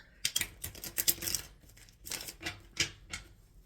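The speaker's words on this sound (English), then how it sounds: "I am shuffling for the collective" Crisp bursts of riffling and slapping as tarot cards are shuffled, several quick clusters with short pauses between, close up and fairly quiet.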